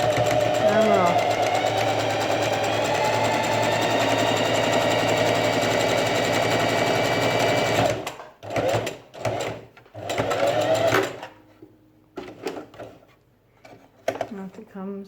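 Sewing machine stitching a fabric face mask, a steady loud whirr for about eight seconds, then several short bursts of back-tack stitching with brief pauses between.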